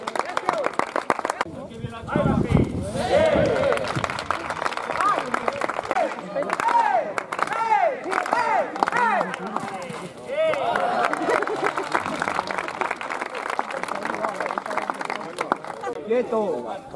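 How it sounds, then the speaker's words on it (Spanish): Crowd applause in the stands at a Spanish cutting contest with a rider, scattered clapping and crowd noise under a continuous announcer's voice over loudspeakers. "Un aplauso para él."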